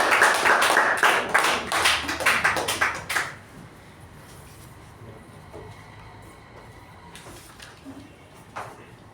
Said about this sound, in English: please welcome with a huge round of applause Toastmaster Jyothi on the stage